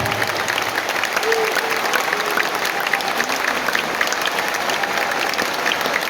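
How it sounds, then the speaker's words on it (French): Loud crowd applause at a rally, a dense, continuous wall of clapping with some cheering mixed in, steady from start to finish. "je vous demande de vous applaudir avec la plus grande puissance"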